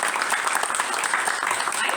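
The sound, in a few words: audience applause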